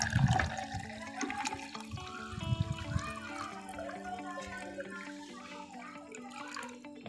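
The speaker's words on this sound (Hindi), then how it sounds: "अब मैं इस पानी को, फर्टिलाइज़र को, अपने इस गिलास में डालूँगा।" Water steeped with pomegranate peels, used as plant fertilizer, poured into a glass, a continuous gurgling trickle with a stronger splash at the start, close and steady, then tapering off.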